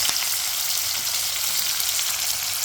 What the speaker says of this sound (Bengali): তেল গরম হয়ে গেছে তার মধ্যে দিয়ে দিচ্ছি পেঁয়াজ কুচি